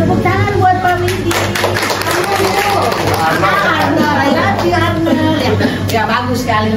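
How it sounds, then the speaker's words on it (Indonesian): A room of teachers claps briefly for a male colleague during a school training session, with scattered claps mixed with overlapping chatter and voices. "Tepuk tangan buat Pak Widi."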